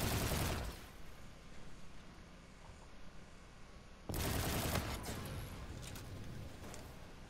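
Gunfire in the Infinite Warfare beta gungame mode: a dense burst of shots at the start, a quieter stretch, then a longer sustained fusillade of loud rapid fire.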